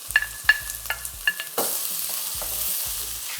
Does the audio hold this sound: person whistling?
no